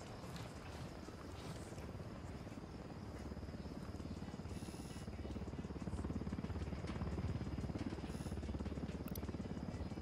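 A helicopter in a military shooter game makes a steady, loud rotor drone with broad rumbling noise that runs continuously and swells slightly toward the end, with no talk over it.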